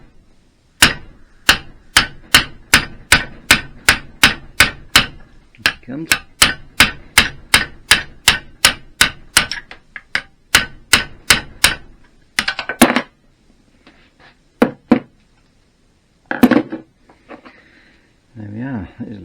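A small hammer strikes metal while fitting fork yokes to a Triumph Bonneville motorcycle frame, a fast, steady series of sharp taps, then a few scattered blows with brief speech between them.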